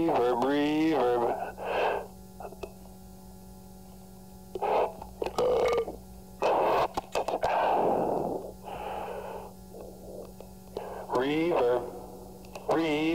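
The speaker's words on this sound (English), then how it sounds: "Reverb, reverb, reverb," A voice repeats short bursts through a telephone converted into a microphone, ringing out with heavy reverb and echo, each phrase trailing into a lingering wash between pauses.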